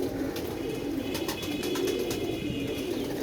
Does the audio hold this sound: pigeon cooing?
yes